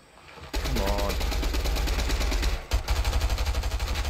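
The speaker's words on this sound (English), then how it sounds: "I just missed that kid with my SMG" Rapid SMG gunfire in the battle royale game Fortnite, a dense sustained burst of shots followed by a brief pause and another rhythmic volley, loud and close, with other game sounds mixed in.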